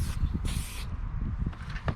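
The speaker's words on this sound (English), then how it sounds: "when you spray the SC1 right in there" Short hissing bursts of SC1 detailer cleaner sprayed onto a side-by-side vehicle's shocks, between the springs and threads, two or three quick pumps close to the mic with soft handling noise between them.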